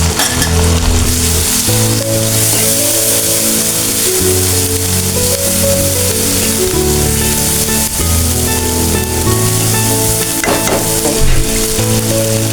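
Spices for beef tripe fry in a pan and are stirred, a steady sizzle running beneath loud, continuous background music with sustained tones.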